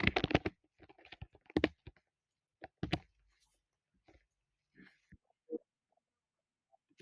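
Keys tapped on a computer keyboard while spelling out a word, a quick cluster of clicks at the start followed by sparse, irregular single taps, close and quiet, with no speech.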